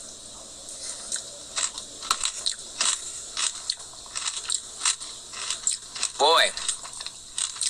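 Someone eating a DQ Peanut Butter Puppy Chow Blizzard, with crunchy biting and chewing at close range in repeated bursts and a short spoken exclamation among them.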